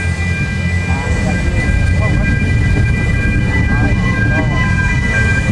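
Amusement ride train rolling through a Transmart mall, a loud continuous rumble and clatter with a steady high tonal whine, crowd noise and chatter all around.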